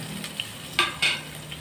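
Chicken pieces sauté in a pan with garlic and ginger, giving a faint sizzle under a few light stirring scrapes and clinks of a utensil against the pan.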